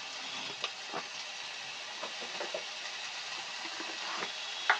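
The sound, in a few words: stirring boiled potatoes and cauliflower in a frying pan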